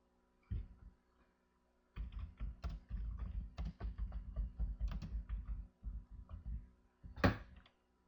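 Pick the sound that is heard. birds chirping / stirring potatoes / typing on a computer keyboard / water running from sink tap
typing on a computer keyboard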